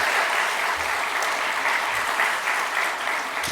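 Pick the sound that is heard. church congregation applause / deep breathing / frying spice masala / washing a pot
church congregation applause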